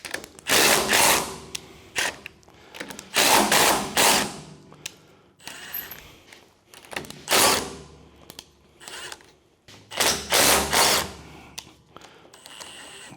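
Fasteners on the rubber cut edge of a MUSKOX 23 37 snowblower spun loose by hand, close mechanical ratcheting and creaking bursts in several separated rounds with brief pauses between.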